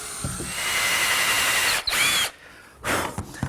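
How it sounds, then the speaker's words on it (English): Power drill boring a half-inch dowel hole in wood for the lid pivot of a small box, running loudly and steadily for about two seconds, a short pause, then a brief second burst near the end. "That hole is for a 1/2-inch dowel, which will be the pivot point for the lid on that small box."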